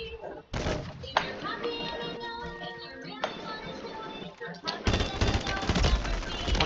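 Gunfire in the video game Warzone 3, a mix of rapid bursts and single shots, fairly loud and continuous under players talking.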